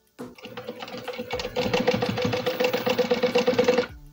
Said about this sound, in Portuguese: E vai passar uma costura bem em cima da onde você fez a outra.